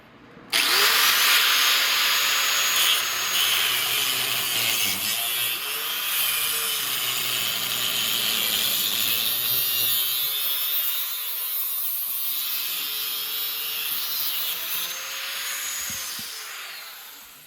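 A cutting wheel slices through a motorcycle exhaust pipe, a sustained high-pitched metallic whine and grinding screech that runs steadily, with slight shifts in pitch as it bites, close and loud, then winds down at the end.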